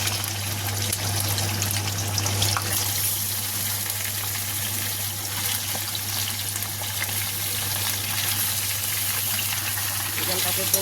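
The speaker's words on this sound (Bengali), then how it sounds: "চিকেনটাকে কিন্তু আমি 2 থেকে 3 মিনিট একটু তেলের পরে নাড়াচাড়া করে নেবো" Chicken pieces frying in oil in a pan for a Bengali chicken kosha, giving a steady, close sizzle with a watery crackle that runs unbroken throughout.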